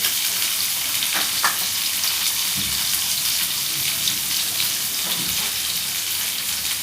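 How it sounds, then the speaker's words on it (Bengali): Two finely chopped onions fry in hot oil in a pan, the first step of a home-style chilli chicken. A loud, continuous sizzle fills the whole stretch, with a few occasional stirring knocks and no talking. "এবার আমি ওই তেলটার মধ্যেই দিয়ে দিচ্ছি পেঁয়াজ কুচনো।"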